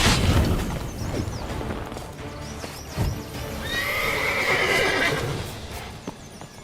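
Roach, Geralt's horse in The Witcher 3: Blood and Wine, gallops with steady clip-clop hoofbeats and loud whinnies, backed by a busy game soundtrack and a brief thud partway through.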